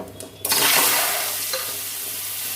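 Peeled ripe, sour mangoes drop into hot mustard oil with panch phoron and a chilli, setting off a loud, sudden sizzle that settles into a steady frying hiss close by.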